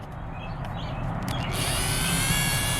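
A Dremel 4000 rotary tool whines steadily at its lowest speed setting, a continuous high-pitched motor hum that grows a little brighter and louder after its first second and a half, with no talking over it.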